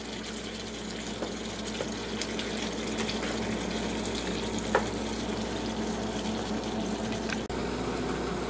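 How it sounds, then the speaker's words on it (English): Texas goulash in tomato sauce, sweetened with sugar, gently sizzling and simmering in a pan while being stirred, a steady soft bubbling with occasional spoon scrapes. "just stir this together while it cooks."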